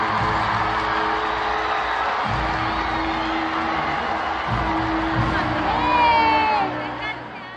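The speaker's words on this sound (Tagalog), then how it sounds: "Pinakamalalakas kasi ang palakpakan at hiyawan para sa kanya." Senior high school students at Palawan National School in Puerto Princesa City cheer, shout and whoop for a graduate, a dense crowd roar that swells near the end, with voices talking over it.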